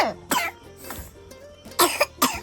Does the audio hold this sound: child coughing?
yes